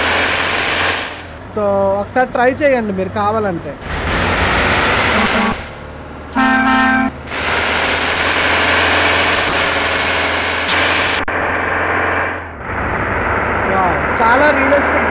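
Volvo B9R bus engine in the Bus Simulator game on a Hyderabad to Visakhapatnam route, a steady low drone that runs through the whole stretch, with a hiss of air brakes and someone talking over it.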